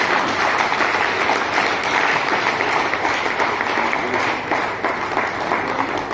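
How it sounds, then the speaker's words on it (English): A workshop audience gives the registrar a round of applause, dense steady clapping from many hands filling the room at close range for several seconds, with a faint murmur of voices underneath. "Please let us give our registrar a round of applause."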